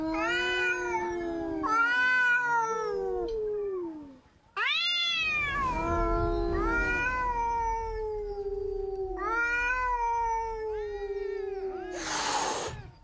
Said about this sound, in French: Les bagarres entre chats sont fréquentes et l'île résonne de leurs cris déchirants.